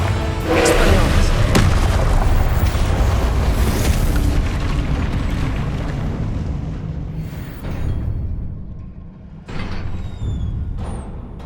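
Confringo spell blasts in the video game Hogwarts Legacy, a loud rumbling explosion with a sharp crack early on that trails into a long, fading roar, followed by further thuds. A voice shouts over the blasts.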